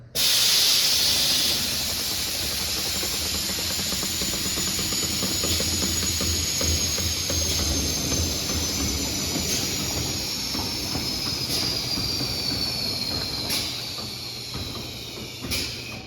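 Air suspension on a custom C-30 build dumping air to lower the vehicle, heard as a loud, continuous close hiss of escaping air that rushes in at the start, holds steady and slowly fades toward the end.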